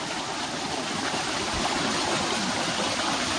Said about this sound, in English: Found this little waterfall, or just a creek. It's a creek, actually.